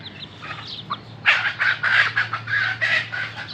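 Young three-month-old desi chickens and a white rooster cluck and squawk close by in short bursts, a few calls at first, then busier chatter.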